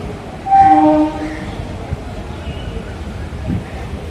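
A passenger train pulls into Needamangalam railway station on the Mannargudi–Mayiladuthurai line, sounding a short loud horn blast near the start, then low rumbling and a faint rattle as it rolls in.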